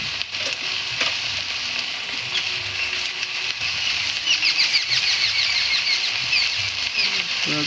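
Meat being browned and stirred in a pan, a steady sizzle with frequent scraping and clattering stirs that grow busier in the second half.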